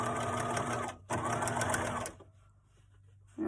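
Sewing machine stitching a zipper seam on a make-up bag, two fast rhythmic bursts of close mechanical whirring broken by a short pause, then quiet handling before it restarts.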